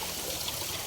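Cold, clean mountain spring water trickling from its source, a faint, steady hiss of running water with no voices.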